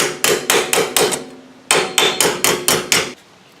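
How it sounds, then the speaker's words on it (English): Metal hammer striking against a dolly on the edge of a 1955 Chevy truck body panel, two bursts of five or six close, sharp, evenly spaced clanks separated by a short pause. "I'll just start using the hammer and dolly technique to get this edge going"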